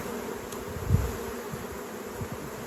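Honey bees buzz around queen-rearing frames, a soft continuous hum with a slightly louder swell near the start, no voices.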